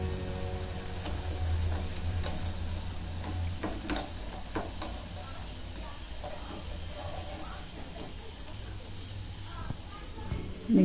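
Jalebi batter frying in hot oil gives a continuous soft sizzle and hiss, dotted with faint ticks and pops, under a low background hum.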